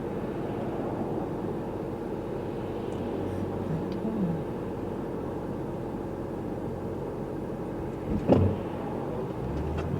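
A car driving slowly in traffic along the Big Sur marathon course, a steady low engine and road rumble heard from inside, with a brief louder bump near the end.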